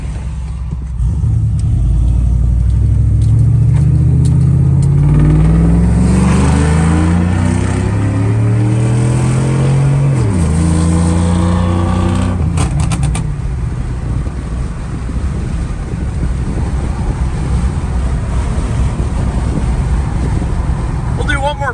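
A 5.3 Chevrolet Silverado truck with long tube headers and a full 3-inch Magnaflow Magnapack exhaust pulls hard on an open road on a cold day, engine note climbing steadily through a long acceleration, a brief shift dip, then settling into a loud cruising drone, heard from inside the cab.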